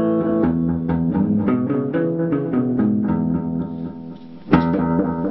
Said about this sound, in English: You can add a delay pedal.